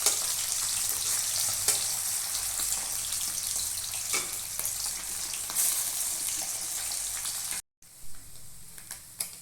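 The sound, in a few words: frying the remaining fish in oil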